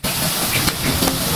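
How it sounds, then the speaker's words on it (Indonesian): Chicken pieces deep frying in hot oil give a steady, dense sizzle that holds at an even level throughout, close and fairly loud, with no voices. "Lanjut ya, goreng sisanya sampai habis."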